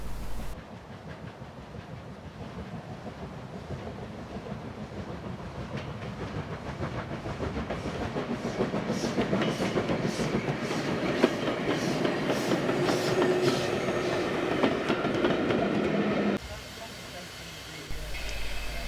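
Steam locomotive 45212 hauling a southbound train past a signal box, with a loud, continuous rolling rumble and rhythmic clickety-clack of wagons that builds and holds close by, along with steady hiss and an announcer's voice over it.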